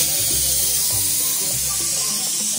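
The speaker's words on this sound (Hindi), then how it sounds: "ये आलू, आलू इसमें तड़का लगा दिया" Tadka tempering for dal makhani sizzles in a pan, a steady loud frying hiss with hot spitting crackle that holds throughout the short stretch, with low thumps beneath.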